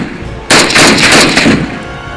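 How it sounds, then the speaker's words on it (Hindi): A loud, close burst of rapid automatic gunfire rings out for about a second, then fades, during a Sindh Rangers shootout with militants. "फायरिंग और फिर जवाबी फायरिंग का सिलसिला शुरू हो गया।"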